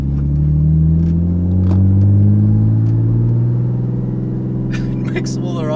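An RB25-swapped Nissan 200SX runs as a loud, steady engine drone with a rising and falling tone as it winds up and eases off, heard up close with some faint clicks near the end.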